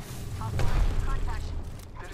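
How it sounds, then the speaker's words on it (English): A thermite grenade going off in an online shooter, a moderate low burst with fizzing crackle under brief in-game voice chatter and faint clicks, short and mid-distance. "Delivering thermite."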